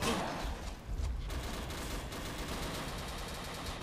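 Gunfire in the Dino D-Day video game, a continuous, faint, distant crackle of rapid shots and fusillades under a noisy battlefield wash, with a brief louder burst early on.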